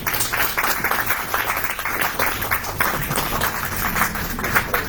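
Audience applause at a panel session of a political and social dialogue event, steady clapping filling the whole stretch at moderate level with no pauses.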